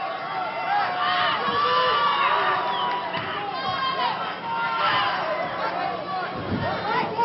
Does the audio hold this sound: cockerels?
no